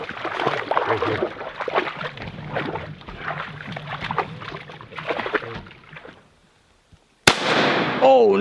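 A single loud, sharp shotgun blast rings out during a duck hunt, arriving abruptly after several seconds of quieter outdoor ambience and voices, followed by a brief pause and lingering noise.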